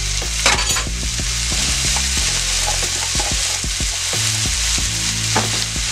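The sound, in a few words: minced garlic sizzling in a frying pan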